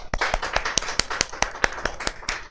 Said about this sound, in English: Please give us a nice clap for Orane, Goa.